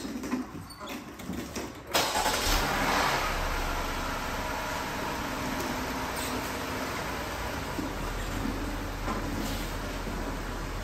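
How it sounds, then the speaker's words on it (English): A Jeep Grand Cherokee with a ZF 8-speed transmission starts up during a fluid level check, the engine catching with a jump in level and then settling into a steady idle drone close by. "He's gonna start it up, run it through the procedure"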